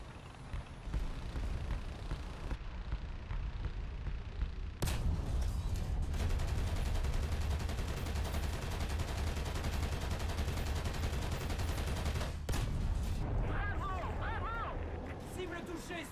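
Repeated cannon blasts and heavy gunfire boom in a combat video game, dense and loud bursts that continue for several seconds, with sharp onsets and a swell of battle noise.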